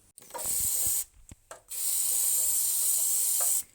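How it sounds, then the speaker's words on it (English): Brake cleaner sprayed onto engine pistons with the cylinder head off, two long loud aerosol hisses separated by short clicks and handling noises, close and without talk. "Some brake cleaner helps to clean up the pistons and get a better look."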